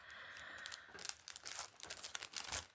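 Crinkly plastic packaging is pulled open around butterfly stickers, with close, quiet rustles and crackles in uneven bursts and no talking.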